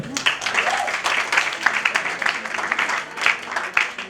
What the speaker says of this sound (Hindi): इनके लिए तालियां बजाओ